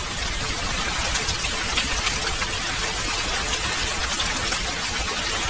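Steady, dense rain pours down through a stormy night in a Bengali horror cartoon, a continuous broadband hiss of heavy drops with no breaks and no voices.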